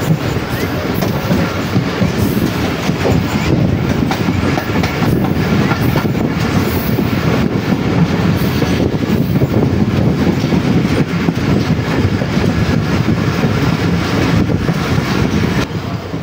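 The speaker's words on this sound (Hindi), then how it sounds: "ब्रेक्स अप्लाई होना शुरू हो गई हैं और टेंडन अलामा इकबाल एक्सप्रेस जो है वो एंटर हो रही है खानेवाल जंक्शन के यार्ड में" The Allama Iqbal Express rolls into the Khanewal junction yard as its brakes come on, a loud continuous rumble of wheels and rattling carriages with wind buffeting the microphone throughout.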